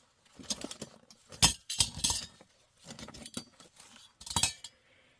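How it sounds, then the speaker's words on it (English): Metal canning jar lids clink and rattle while being handled, producing bright, close clusters of jangling taps in irregular bursts with short pauses between them. "I have these canning jar lids."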